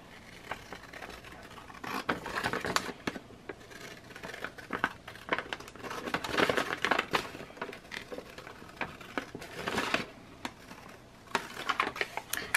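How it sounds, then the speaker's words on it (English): Scissors cutting through printed paper inserts for decorating journal pages, a series of crisp snipping and crunching strokes close by, fairly steady with brief pauses and no talking. "I'm just gonna use my scissors here."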